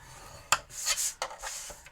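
Cardstock being scored on a scoring board for a Christmas gift box with a see-through side panel: a few short, close scraping strokes with brief pauses between them.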